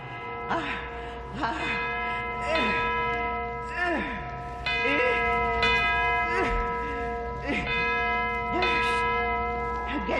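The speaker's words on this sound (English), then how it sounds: "here's the bell, and here's the cord. Now I'll swing it hard." A large bell swung by its cord rings repeatedly with strong resonant strikes at a steady pace, each ringing tone overlapping the next.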